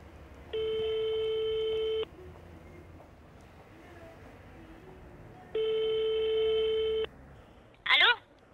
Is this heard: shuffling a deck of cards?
no